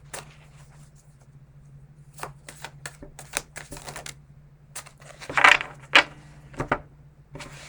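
Tarot cards being shuffled in a quiet room, a scattered run of soft, close taps and riffling slaps that grow louder near the end over a low steady hum.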